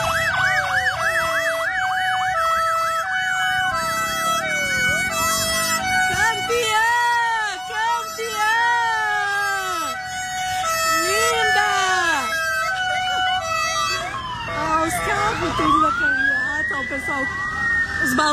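A fire truck siren wails loudly and continuously during a street celebration parade in Porto Alegre, with rising and falling tones layered over crowd noise and voices, steady throughout.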